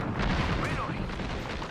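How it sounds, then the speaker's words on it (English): Airstrike explosions in a video game rumble as a dense run of close, heavy booms, with a voice talking over them. "Yes, an airstrike. Exactly what we need."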